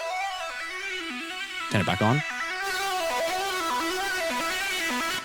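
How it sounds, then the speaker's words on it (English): A synth arpeggio line runs through JST Clip distortion, switching between a cleaner tone and a heavily clipped, brighter one. A voice speaks briefly partway through over the repeating notes. "I'm really using JST Clip here to introduce a load of distortion"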